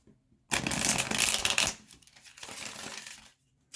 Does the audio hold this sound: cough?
no